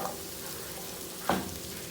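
Chopped spring onion sautés in a pan, a soft continuous sizzle with one brief scrape or stir partway through, close but fairly quiet, with no voices.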